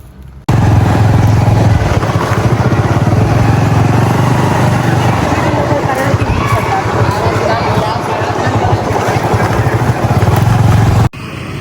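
A Honda Activa scooter ridden through Mumbai, its engine and road noise a loud, steady roar from start to finish, with voices and background babble mixed in.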